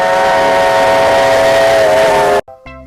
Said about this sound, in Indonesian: yang ini kereta api lokomotif